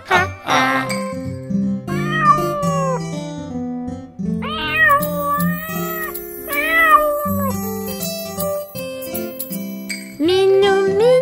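Cartoon kitten meows sung as a children's nursery rhyme, several high, sliding mewing calls riding over a bouncy musical backing with chimes, loud and continuous.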